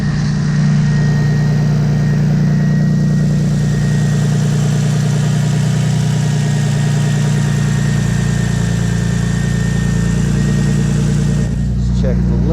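A Toyota Supra engine runs steadily after repair, a loud close idle with a deep even rumble and constant drone throughout, without pause.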